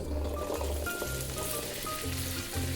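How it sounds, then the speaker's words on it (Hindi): Okra frying in a pan on a gas stove, a steady close sizzle running for the whole stretch with no voices over it. "दूसरे पे हम भिंडी जो है वो फ्राई कर लेंगे"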